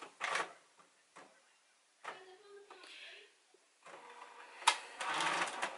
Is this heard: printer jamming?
yes